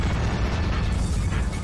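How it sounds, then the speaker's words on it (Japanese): A loud, dense rumbling burst of an explosion in a racing video game fills the moment, sustained and heavy, with mechanical clatter and no talking. "何の爆発だよ"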